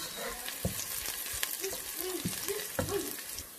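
Ginger sizzling as it is stir-fried in a pan, a steady crackling hiss with soft scraping stirs repeating every half second or so, close and alone.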